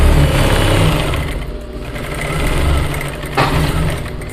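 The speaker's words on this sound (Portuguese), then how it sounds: "vou fazer uma costura aqui na parte das costas, bem no meio das costas, juntando as duas partes" A sewing machine runs steadily, stitching a center back seam that joins two pieces of leftover fabric for a V-neck blouse, its motor humming continuously and close by with no talking.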